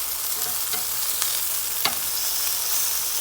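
Spam or bacon frying in a pan, a steady close sizzle with a few sharp crackles and pops standing out, and no talking over it.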